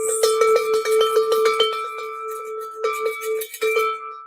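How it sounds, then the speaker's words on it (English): A bell rings out in quick repeated strikes, bright and metallic with a steady ringing tone, close and loud, slowing into a few scattered hits near the end with no talking. "Okay, one more bell."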